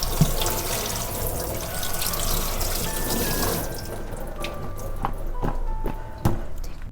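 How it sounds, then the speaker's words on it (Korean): Tap water runs steadily over shiitake mushrooms being rinsed in a kitchen sink, a close splashing flow with a few drips and knocks, easing toward the end. "표고버섯을 얼른 흐르는 물에다 먼지만 얼른 제거할게요."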